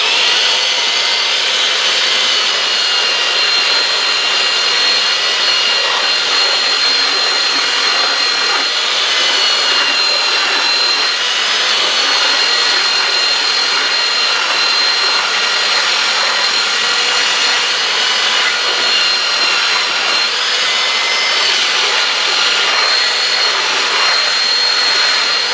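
Power sander worked over a freehand redwood carving with a light touch, giving a loud, continuous high-pitched whine and abrasive hiss that holds steady for the whole stretch with no talking.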